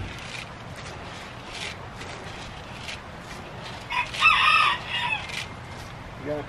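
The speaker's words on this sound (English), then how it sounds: "I think the chickens are really liking that all the snow melted." Chickens cluck faintly in a snowmelt yard, with a rooster crowing loudly near the end in a brief burst, over soft outdoor background noise.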